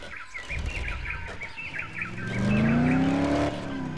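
A vehicle in the zombie game Dead Island rolls along with engine hum rising into a loud whining pitch sweep, while bird chirps sound in the background.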